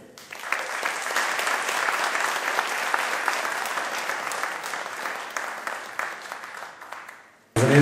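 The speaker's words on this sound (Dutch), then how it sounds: "En applaus voor Sonja." An audience gives Sonja a round of applause, a dense, steady burst of clapping that swells quickly, holds for several seconds and fades near the end before a sudden louder sound.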